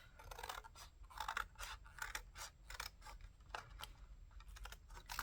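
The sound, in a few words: scissors cutting paper for a collage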